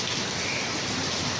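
Heavy rain pours down steadily in the Philippines, a dense, even hiss of drops hitting surfaces, close and loud throughout the short stretch with no voices.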